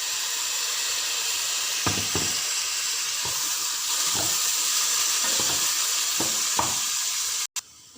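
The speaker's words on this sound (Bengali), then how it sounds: "মশলাটা পেঁয়াজের সঙ্গে সুন্দর করে নেড়ে দেব 2 মিনিট ধরে" Masala and onions being stirred and fried together for mutton paya, a continuous loud sizzle with repeated scraping strokes of a spoon against the pan, ending in a brief cut.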